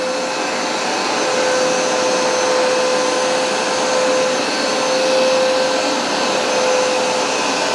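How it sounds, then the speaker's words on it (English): Hoover SmartWash carpet cleaner runs steadily and loudly up close, a continuous whirring motor drone with a constant tonal whine and no breaks or voices. "Hoover really did knock it out of the park with this carpet cleaner"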